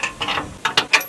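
Close ratchet clicking in several short bursts while loosening a mount under a car, no talk over it.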